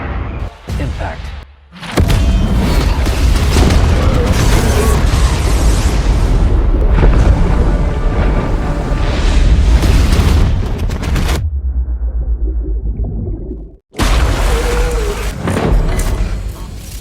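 Bomb blasts in a military raid on a terrorist hideout boom loudly, with dense rumbling bursts and debris noise that cut in and out, then a brief quieter lull and another heavy blast.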